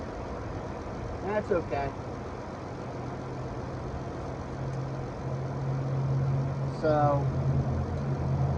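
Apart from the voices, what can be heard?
2014 caravan engine running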